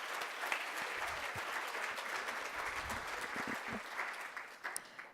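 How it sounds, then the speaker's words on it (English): At a young women's career conference, the audience gives a round of applause for a councilwoman's speech: a soft, somewhat distant, steady patter of many hands lasting several seconds. "Can we get another round of applause for Councilwoman Edwards?"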